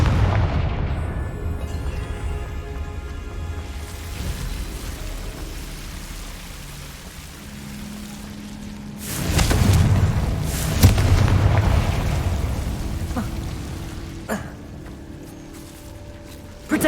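Confringo fire-spell explosions in Hogwarts Legacy crash through a rumbling battle din, with one big burst followed closely by a second sharp blast and scattered smaller impacts.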